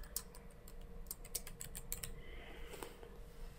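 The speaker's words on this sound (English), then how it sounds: "every time I open this, I have to retype the password" A password being typed on a computer keyboard: a short burst of light, quick key clicks at moderate distance over a steady room hum, with a few scattered taps after the burst.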